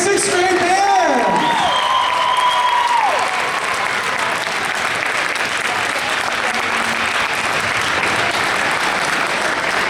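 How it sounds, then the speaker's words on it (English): A school concert crowd gives loud, sustained applause for a 5th and 6th grade band, with steady dense clapping, a few whoops and shouts, and rising whistles at the start. "One more round of applause for the CMS 5th and 6th grade band."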